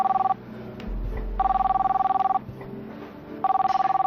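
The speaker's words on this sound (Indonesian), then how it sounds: "Boleh saya angkat telepon ya?" A telephone bell rings in three loud bursts of steady trilling, with short pauses between them and a low hum underneath.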